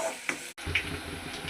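Onion and green chilli frying and being stirred in a pan, a steady close sizzle with a couple of brief scraping stirs and a momentary dropout.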